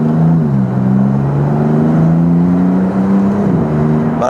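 A Maserati MC20 supercar engine revs with a throaty induction roar, steady and close, its pitch dipping and climbing as the throttle changes, with no voices.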